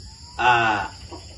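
A rooster gives a short, hoarse crow nearby, lasting about half a second, followed by faint background noise.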